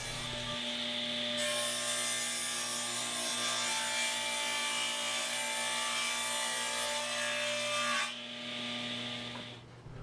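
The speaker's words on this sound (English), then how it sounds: "We're going to cut a piece of 3/4 inch plywood, I'm using birch here, into a square 20 1/8 by 20 1/8 part." Table saw or circular saw ripping through 3/4 inch birch plywood, a steady loud whining cut lasting most of the time, with the blade spinning up at the start and the motor winding down near the end.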